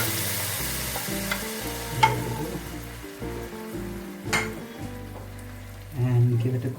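Food frying in ghee for rice kheer is stirred in the pan, giving a steady close sizzle with scraping and clattering spoon strokes over it.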